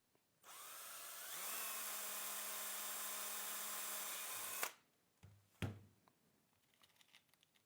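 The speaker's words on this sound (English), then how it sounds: "And now we can safely drill the other hole." A power drill whines steadily for several seconds, its pitch rising as it bites in, then stops, followed by a couple of clunks and light handling noises.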